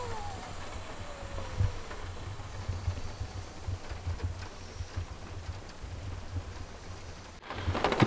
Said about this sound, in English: there's something pretty special about the sound of the rain on the roof